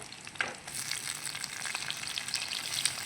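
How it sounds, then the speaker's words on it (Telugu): Vegetables for Andhra-style sambar, drumsticks, ivy gourd, carrot and okra, sizzling in an oil-filled pan while being stirred, a steady close hiss with a few scraping clicks and no talking. "ఇప్పుడు ఒకసారి తిప్పుకుందాం"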